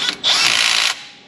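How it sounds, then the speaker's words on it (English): An impact gun runs in one steady, loud burst of under a second on the bolts of a CAT 3126 diesel engine, with a whirring, buzzing drive that stops abruptly. "Let me hit these with the gun real quick"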